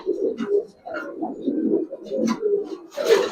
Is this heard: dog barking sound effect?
no